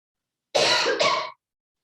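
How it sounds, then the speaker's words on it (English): A single harsh cough, close and fairly loud, breaking into two bursts and then stopping into silence. "Excuse me, I'm going to cough."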